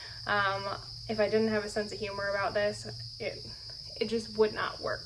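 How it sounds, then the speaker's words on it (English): Crickets chirp loudly in a steady high, continuous trill underneath a person talking, persisting throughout behind the speech. "These crickets got really loud in the last 24 hours"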